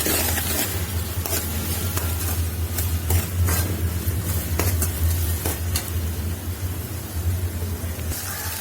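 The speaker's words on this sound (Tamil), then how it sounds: "பூண்டை போட்டுட்டு அது கொஞ்ச நேரம் எண்ணெயில் வதங்க விடணும்." Garlic cloves sautéing in oil for a Tamil poondu kuzhambu, with a loud, continuous close sizzle and repeated scraping stirs of the spoon against the pan throughout.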